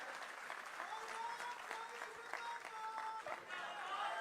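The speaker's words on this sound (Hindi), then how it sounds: "तालियां नहीं रुकनी चाहिए साथियों, तालियों से ही कार्यक्रम की शोभा है।" A crowd at a BJP political rally supporting a mayoral candidate applauds, with steady broadband clapping throughout, fairly faint and distant, with a voice or tones faintly mixed beneath.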